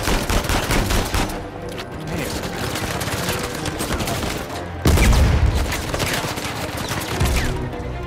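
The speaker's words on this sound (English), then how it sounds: "Oh, that's a shotgun." Loud bursts of shotgun blasts and rapid gunfire during an Uncharted 4 gunfight, with a heavy boom near the middle and a brief voice under the shooting.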